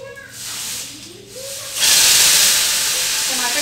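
Pressure cooker releasing steam while rice cooks, a loud continuous hiss that swells and stays steady, preceded by softer hissing and a short rising whistle-like tone in a home kitchen.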